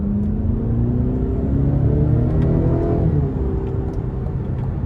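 A 2020 Cadillac CT5 Premium Luxury Platinum accelerating hard, a loud steady engine drone heard from inside the cabin with rising tones as it pulls, no talking.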